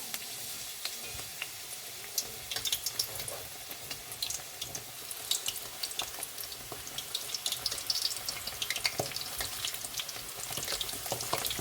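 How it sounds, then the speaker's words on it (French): Aubergines frying in hot oil, a continuous close hiss sprinkled with sharp pops and crackles that runs unbroken throughout, no voices. "va les faire frire"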